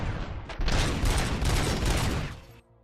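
A turret firing in the video game Robocop: Rogue City, a dense sustained burst of rapid automatic fire, loud and close, cutting off abruptly near the end.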